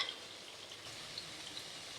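Moong dal pieces frying in oil until brown, a soft, steady sizzle with faint crackles throughout, quiet and continuous with no talking.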